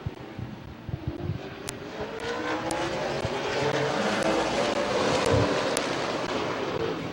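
Race cars roar around the oval at Midvale Speedway, a steady, continuous engine drone building slightly in loudness with wind buffeting, heard from trackside without talk.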